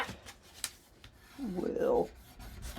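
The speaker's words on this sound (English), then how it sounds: "now let's do some scoring" Paper being scored for a handmade Valentine's mini album, a few faint scratchy strokes followed by one longer, louder rubbing drag of the scoring tool across the paper, near and quiet.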